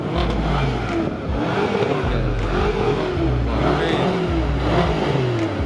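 A McLaren 570S revving repeatedly at a car meet, with blipping, rising and falling engine bursts and low exhaust crackle, loud and close over a busy outdoor background.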